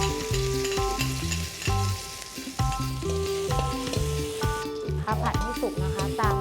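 Pounded chili and garlic stir-fry in a little oil in a wok, with a loud continuous sizzle, while music plays over it.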